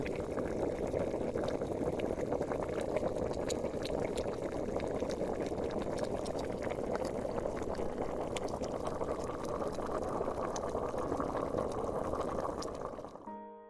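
A pot of sugar and starch syrup simmers over an extremely low flame in a quiet Japanese sweets workshop, giving a steady, soft bubbling hiss that continues evenly throughout and then cuts off at the end.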